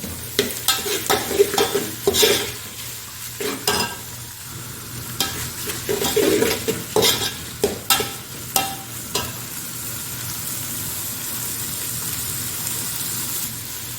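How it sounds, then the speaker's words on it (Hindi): Vegetables stir-frying for vegetable fried rice after the onions, loud clattering scrapes and tosses of a spatula in the pan over a steady sizzle, busy at first then settling into an even frying hiss, with no talking. "हमारी सब्जियां जाएंगी इसमें। इनको भी हम अच्छे से पकाएंगे।"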